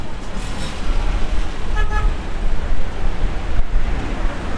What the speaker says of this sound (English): Examples of these are the sound of traffic